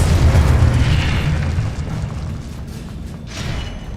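An Incendio fire spell in Hogwarts Legacy on Xbox Series bursts as a loud, dense, roaring blast that gradually fades into a whooshing hiss, with a smaller flare near the end.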